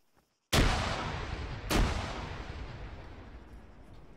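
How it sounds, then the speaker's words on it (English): Two booming explosions from grenades in the military video game Arma 3, the first a sharp, loud blast with a long rolling decay and the second a slightly weaker one about a second later, with no talking. "I got him with a grenade."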